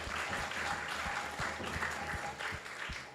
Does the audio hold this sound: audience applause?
yes